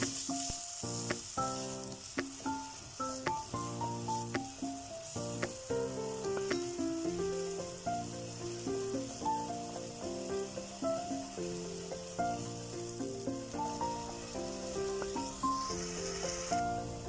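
Steady hissing sizzle of chopped onions frying in oil for green lentil soup, running under louder melodic background music.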